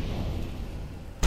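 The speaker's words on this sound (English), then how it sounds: "Grenade out. Incendiary." An incendiary grenade in the CS:GO video game, a steady rumbling burn that ends in a sharp, loud burst.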